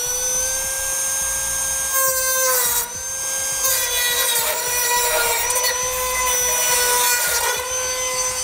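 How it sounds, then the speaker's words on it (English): A rotary tool cuts a notch into the cross member of a 2016 Ford F-250 Super Duty during a gooseneck hitch install, a loud sustained high whine that wavers and grinds as the bit bites into the metal. "Now I'm gonna be using a rotary tool to cut out our notch here."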